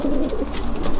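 Racing pigeons coo in a breeder's loft, a steady, close, low murmur of overlapping calls with no voices.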